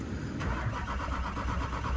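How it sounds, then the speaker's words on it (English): Truck engine turning over without starting on a cold day, a continuous churning crank with a rapid rhythmic pulse, close and steady throughout. "And then it just turns over and doesn't do anything."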